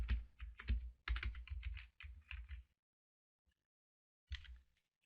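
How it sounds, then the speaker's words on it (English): Keys tapped on a computer keyboard to enter WooCommerce into a plugin search box: a quick close burst of clicking keystrokes, a pause of silence, then a few final taps. "where it says search plugins, you type in WooCommerce."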